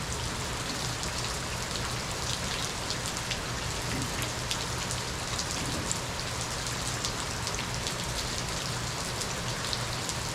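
Steady rain pours down throughout a bike ride, a dense, even hiss of drops hitting the ground with no pauses and no voices.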